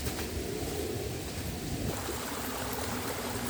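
Steady rush of water flowing through a small mossy gully in a mountain stringybark and blackbark forest, a soft continuous burble with no voices.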